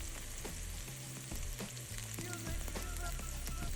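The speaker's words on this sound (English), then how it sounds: "To that shallot that's been sauteing in the olive oil" A shallot sautéing in olive oil in a sauté pan for an Italian-style shepherd's pie sizzles faintly and steadily, with a low rumbling background hum throughout.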